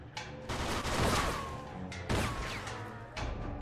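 Bursts of rapid gunfire in the video game Mafia II crackle and echo in several volleys, loud and close, with short pauses between them.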